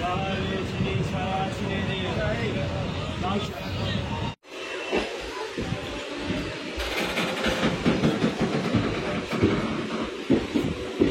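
A moving train on a journey toward Kolkata gives a steady, loud rumble that runs the whole way through, with one brief dropout and faint clatter. Passengers chatter and babble over it.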